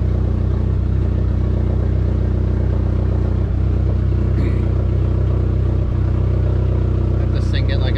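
A Dodge Neon SRT-4 with a freshly rebuilt engine drones steadily in second gear during a transmission test, a constant close engine hum with faint clatter and a few light clicks throughout.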